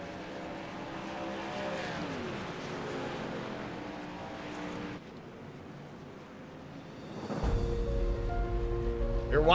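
Race cars in iRacing at Talladega Super Speedway: a steady roar of engines with rising and falling pitch sweeps as cars pass, then a louder, fuller engine roar near the end.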